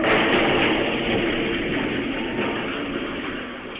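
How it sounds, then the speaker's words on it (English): A light rail train and a semi-truck collide at night in Phoenix, producing a loud, sustained roaring, grinding rush of noise that slowly fades over a few seconds. "A semi-truck crashed into a light rail train in Phoenix Sunday night."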